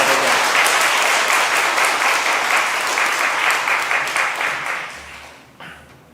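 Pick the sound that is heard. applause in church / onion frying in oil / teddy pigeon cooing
applause in church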